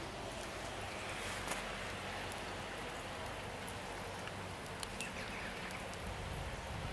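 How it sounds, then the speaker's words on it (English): Steady rain falls continuously outdoors, a dense even hiss of drops on surfaces with occasional louder patters, no voices present. "It's been raining for days."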